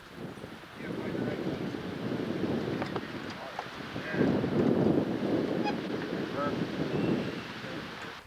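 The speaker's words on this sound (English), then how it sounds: "Boy, this wind is something else." Strong wind gusting outdoors in northern Wisconsin, a steady broad roar buffeting the microphone with louder surges midway, and faint voices underneath.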